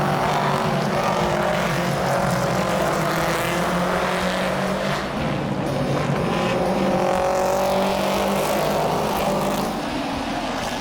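Stock cars of the British American Cup Car Series racing, their V8-style engines roaring loudly and steadily with passing swells and no speech.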